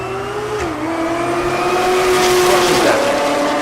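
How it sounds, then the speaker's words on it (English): A big twin-turbo diesel drag car spools up and launches at Tulsa Raceway Park during Race Week, a loud rising engine roar with turbo whine and a steady, close drone that swells toward the end. "So big old diesel, he spools it up,"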